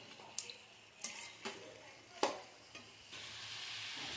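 Country chicken pieces stirred through curry masala in a hot pan, with gentle sizzling under a handful of distinct scraping stirs and soft clinks, close and fairly quiet.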